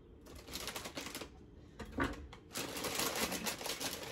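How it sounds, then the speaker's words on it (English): A knife quarters larger Brussels sprouts, making a run of crisp, close tapping chops with short pauses and a louder cut near the middle. No one speaks. "Now this bag had some bigger pieces of Brussels sprouts, so I'm gonna have to quarter them instead"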